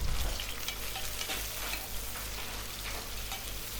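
Sliced onion frying in ghee and oil for a pressure-cooker tomato biryani makes a loud, continuous sizzle, with stirring scrapes throughout and no talk.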